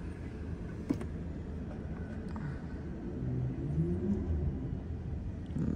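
Road traffic passing near Dubai Marina Mall, a low continuous engine rumble and tyre whir that swells gradually as vehicles go by, with no talking.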